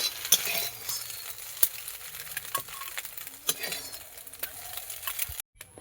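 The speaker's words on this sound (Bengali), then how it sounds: "কড়াইয়ে তেল দিয়ে দিয়েছি গরম হয়ে গিয়েছে এর মধ্যে একটু পেঁয়াজ দিয়ে দেবো" Hot oil sizzles in a wok (kadai) for home-style chow mein, with brisk stirring scrapes and light clinks of a utensil over a continuous close-up frying hiss, ending abruptly.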